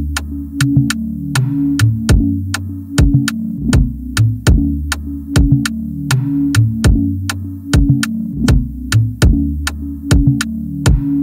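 Two layered kick drums bounce off each other in an afro x R&B beat, loud rhythmic low thumps repeating under a steady throbbing groove with crisp ticking percussion on top.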